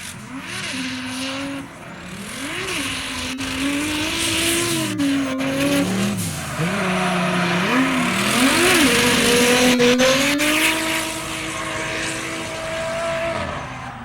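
A race car is driven on a test lap after repairs and adjustments, its engine revving and shifting through gears in steady rising and falling pulls, fairly close and loud throughout with no talk.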